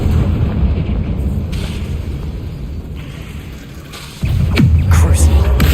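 Confringo fire spell blasts in the Hogwarts Legacy video game, a loud booming explosion with a sharp burst near the end over a steady rumbling game background.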